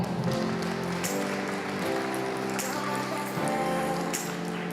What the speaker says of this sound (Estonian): Teeme aplausi Ivo Ingrafia